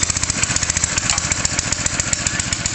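A small portable pump engine running after a pull-cord start, a loud, close, steady rhythmic chugging with fast regular firing pulses and no talk over it.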